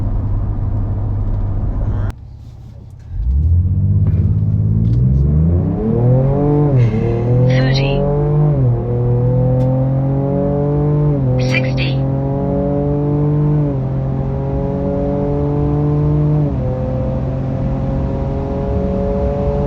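A Ford Ranger Raptor launches down a quarter-mile strip, its engine surging loudly through a rising series of gear pulls with brief dips at each shift, close and dominant for most of the run.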